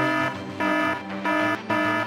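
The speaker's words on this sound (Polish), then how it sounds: "Alarm, alarm!" An alarm in a children's detective-game story sounds as a loud electronic tone that pulses on and off in a steady repeating pattern, with no voices over it.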